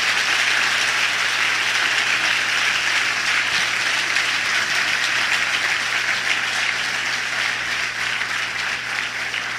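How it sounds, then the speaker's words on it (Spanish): Steady, dense applause from a church congregation honoring the Apatlaco church members, sustained at an even loudness throughout with no speech over it. "Dales un fuerte aplauso."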